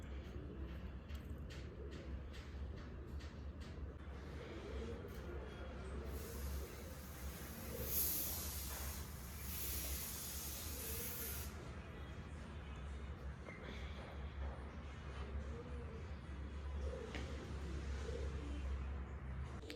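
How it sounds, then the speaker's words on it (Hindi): A pain relief spray can releasing a continuous hissing burst of about five seconds, close by, over a steady low room hum. "स्प्रे भी मैंने लगा दिया है"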